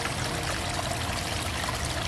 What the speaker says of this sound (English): I mentioned in an earlier video how much I love running water, so we have a few water features on the property.